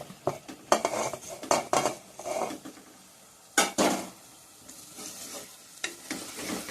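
Dried coconut and ground coriander masala being dry-roasted in a pan for a chicken curry, with intermittent scraping stirs and clinks of a spatula against the pan over a low, steady sizzle.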